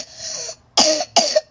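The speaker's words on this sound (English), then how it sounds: "Coughing." A person coughs three times at close range, a longer first cough followed by two sharp, loud bursts with short gaps between them, with no talking.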